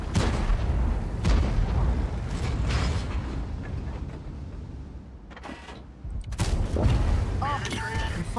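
Tank gun in World of Tanks on the AMX M4 51, a few heavy booming shots with mechanical clanks of reloading between them, close and loud, with someone talking at times.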